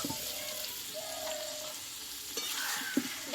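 Potatoes stir-fried together with partly cooked mutton and spices in a pan, giving a soft, steady sizzle with a few scraping stirs near the end.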